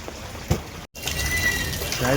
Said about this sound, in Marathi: पाऊस आता दिवसभर पाऊस पडतोय